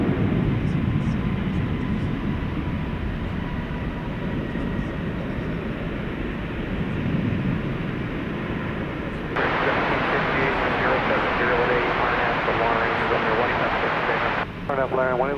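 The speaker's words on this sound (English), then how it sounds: "This American Airlines 737 is headed to Omaha, Nebraska." An American Airlines Boeing 737 at DFW Airport at night, a continuous jet engine roar running throughout, partly under radio chatter and a voice speaking over it.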